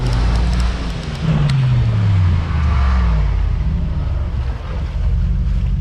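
A 585-horsepower Mercedes G63 roars uphill in a drag race against a Suzuki Jimny and Jeep Wrangler, a loud continuous engine note with a rising then falling pitch sweep as it accelerates and shifts.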